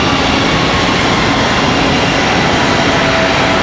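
A Spirit airliner arriving at Raleigh-Durham from New Orleans: a loud, unbroken jet roar, dense and steady from start to finish, with no voices.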